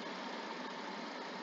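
A 2009 Suzuki Jimny running rich and low on power idles steadily, giving a constant, muffled engine drone with no talk.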